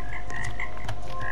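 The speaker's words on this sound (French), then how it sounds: "Ah, les grenouilles, là, les grenouilles." Frogs croak in a haunted-manor escape game in Roblox, a steady chorus of repeated croaks close up over low background hum, with no talk.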